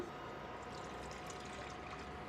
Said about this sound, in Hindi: पैन में सबसे पहले हम डालेंगे पानी